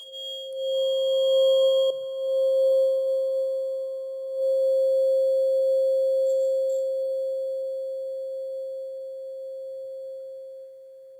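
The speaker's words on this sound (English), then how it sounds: "let's get some 528 hertz in our lives" A steady, pure 528 hertz sine tone hums continuously and evenly, fairly loud and unaccompanied, with no other sounds around it.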